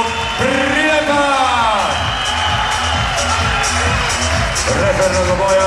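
A crowd at an MMA event cheers and shouts as a fighter is introduced. The roar is loud and sustained, and an announcer's amplified voice carries over it.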